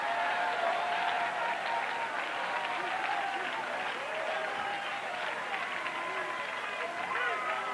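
Apostolic church congregation clapping and cheering loudly throughout, a dense continuous crowd roar with busy hand claps and voices shouting over one another, no single speaker standing out.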